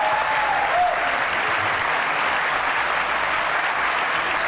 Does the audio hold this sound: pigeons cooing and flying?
no